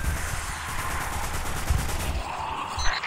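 Gunfire against the Fallen in the mobile game Destiny Rising, a dense stream of rapid shots that keeps up steadily for a few seconds with no pause and no talk.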